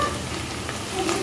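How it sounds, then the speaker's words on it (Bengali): Onion and chili fry in a pan with a steady, close sizzle and crackle and a faint scrape of stirring, with no one speaking. "তো এই যে আমার হচ্ছে পেঁয়াজ লঙ্কা একটু ভাজা ভাজা হয়ে গেল।"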